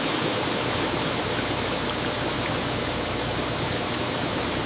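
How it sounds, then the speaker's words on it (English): Dark greenish-brown raw sugarcane juice gushes from under the rollers of a sugar mill, a loud, steady rushing roar of pouring liquid that runs unbroken throughout. "A massive gush of dark greenish-brown raw sugarcane juice pouring out from under the"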